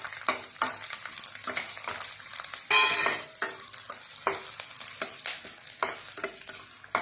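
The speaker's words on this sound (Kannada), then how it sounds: "ಸೊ ಇಷ್ಟನ್ನ ಎಣ್ಣೆಯಲ್ಲಿ ಕಾಯ್ದಿದ ಎಣ್ಣೆ ಹಾಕೋತಾ ಇದೀನಿ" Whole spices, cardamom, bay leaf, ginger and mace, fry in hot oil for a kaju-matar masala, giving a steady close sizzle with repeated sharp stirring scrapes throughout and no talking.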